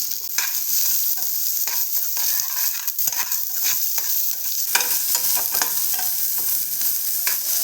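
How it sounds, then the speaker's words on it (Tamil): Chopped onion sautéing in a pan, a continuous sizzle with repeated scraping stirs of a spatula, close and steady with no talking. "சேர்த்து இப்போ நல்லா வதக்குங்க"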